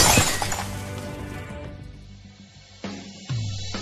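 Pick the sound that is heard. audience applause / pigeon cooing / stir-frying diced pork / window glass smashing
window glass smashing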